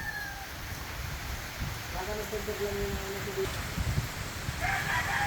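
On a rainy morning a rooster crows in a drawn-out call partway through, with chickens clucking nearby over the patter of rain and people talking.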